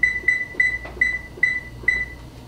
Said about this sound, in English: put your timer on 20 minutes